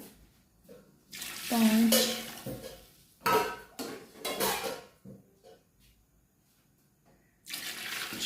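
Bowlfuls of water are poured into a cooking pot for green chana pulao in separate splashing bursts, each a couple of seconds long with quiet gaps between, and a voice counts off the bowls.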